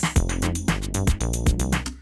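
Ableton Live session with a Rhodes electric piano, drums and bass playing together: a steady groove with regular kick and snare hits under sustained warm keyboard chords and a deep bassline, loud and unbroken.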